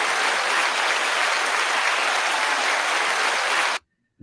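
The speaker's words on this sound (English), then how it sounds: "You got you some applause and everything" A crowd claps steadily and loudly in an indoor setting, a dense wash of applause that holds for several seconds, then cuts off abruptly into silence.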